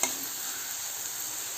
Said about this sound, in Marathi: आपल्याला मीडियम गॅसवर तेल सुटेपर्यंत छान परतून घ्यायचं आहे।